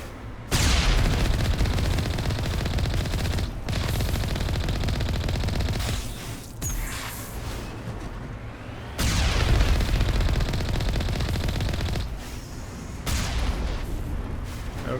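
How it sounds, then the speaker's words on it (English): Mako vehicle cannon and machine-gun fire in Mass Effect, long heavy bursts of automatic shots with booming impacts, loud and close, broken by brief pauses between volleys. "the fact that we're able to gun them down from the Mako"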